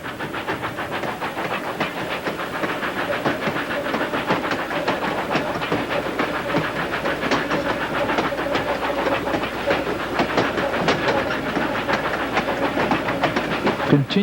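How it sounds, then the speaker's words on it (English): A steam train climbing a mountain grade through a gorge rumbles steadily with a continuous hiss of steam and rhythmic clickety-clack of wheels, loud and close throughout. "The train continues to climb above Tunnel 5."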